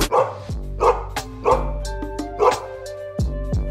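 A dog barks in a steady series of about six loud, close woofs, spaced roughly half a second to a second apart, each with a whining, yelping edge.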